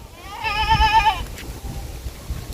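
A single goat gives one wavering, nasal bleat up close on a goat farm, followed by quiet rustling and low background noise.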